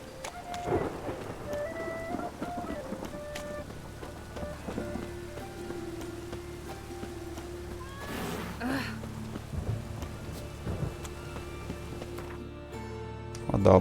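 Rain and thunder in the video game The Witcher 3, with a steady wash of rainfall and a deep rumble swelling near the middle, a horse whinny and game effects heard over it.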